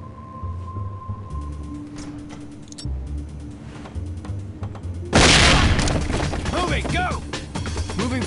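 Flashbang grenade from the SWAT 4 tactical shooter going off with a sudden loud bang that gives way to a ringing hiss, following mechanical clicks and gear sounds; voices are heard around it.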